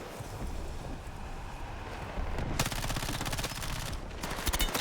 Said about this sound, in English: Taking incoming fire though